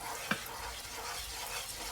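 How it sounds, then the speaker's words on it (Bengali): Ghee goes into a frying pan of thick besan halwa with a soft sizzle and a small clink near the start. Quiet frying and stirring continue close by, and no one speaks. "আমি আরেকটু ঘি দিচ্ছি।"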